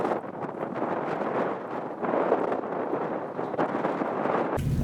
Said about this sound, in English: It's windy and snowing and it's cold.